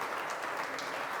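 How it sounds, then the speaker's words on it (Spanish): A church congregation keeps up a sustained, even round of applause, a dense wash of many hands clapping together, heard faintly at a distance with no talk over it. "Da un aplauso bien grande"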